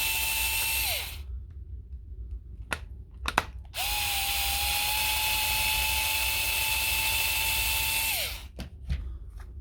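A cordless power tool running in two sustained high-pitched whirring bursts, with a few sharp clicks in a quiet gap between them, close and loud, during a repair of a laser tool held together by T10 Torx screws.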